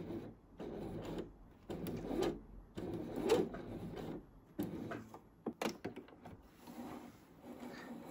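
A sewing machine stitching back over the seam of a men's boxer, with short bursts of quick mechanical rattling and whirring separated by brief pauses and soft handling noises, close and fairly quiet.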